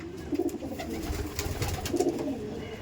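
Two bursts of pigeon cooing come from a loft's single-bird room, one near the start and one later, over soft background rustle with no speech.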